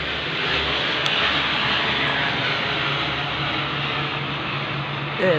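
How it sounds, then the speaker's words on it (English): An airplane passing overhead, a steady broad engine roar with a low hum that holds loud and even for several seconds, heard alone without talk. "plane went over as I said that"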